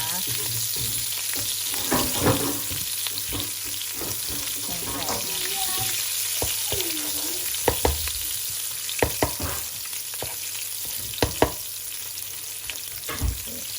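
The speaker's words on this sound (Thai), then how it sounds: "แล้วก็จะมาคนให้พริกแกงแตกมันนะจ๊ะ" Red curry paste stir-fried in oil in a pan until the oil separates, for a pork belly curry with bamboo shoots: a steady close sizzle broken by sharp scraping and clacking from the stirring utensil.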